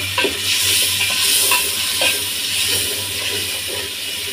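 Mustard, turmeric and green chili paste hits hot oil in a frying pan for a hilsa and taro dish. A steady close sizzle follows, with stirring scrapes over it.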